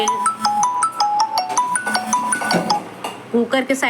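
A mobile phone rings with a repeating melodic ringtone in a home kitchen during cooking, its chiming notes loud and close throughout, with faint clinks mixed in.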